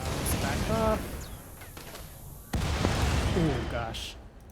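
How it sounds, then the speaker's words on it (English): Explosion in the colony game Rimworld during a Star Wars Mandalorians-themed battle: a sudden loud boom mid-clip amid ongoing combat noise and gunfire-like cracks, with no talk. "Oh gosh, that explosion hit some of us."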